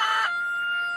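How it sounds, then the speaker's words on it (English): Backyard roosters kept in a city neighbourhood near Los Angeles give a short, loud, close crow that ends abruptly, followed by a steady low hum in the background. "If my roosters were keeping someone's baby up"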